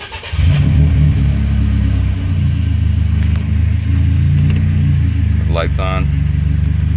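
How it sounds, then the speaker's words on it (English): A BMW E30 with an M42 four-cylinder engine running on Megasquirt idles close by with a steady, loud, low rumble and a slight wobble in pitch, while a person speaks briefly near the end. "I got it to start up somewhat okay and idle all right"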